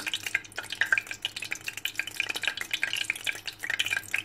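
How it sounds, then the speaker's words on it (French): Sausages being dipped and turned in thick fritter batter for corn dogs, a steady wet stirring and squelching texture with faint clinks, close and continuous, with hot oil nearby. "on trempe les saucisses dans notre pâte à beignets"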